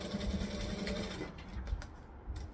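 A sewing machine runs steadily up close, stitching down a folded fabric seam at joining stitch length, a rapid even hum and needle chatter that slows and stops near the end.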